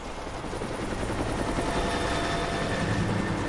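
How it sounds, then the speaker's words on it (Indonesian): A helicopter in the video game Rise of the Tomb Raider roars loudly and steadily, its dense rotor chop and engine drone filling the short stretch with no voices over it. "Helikopter itu lagi."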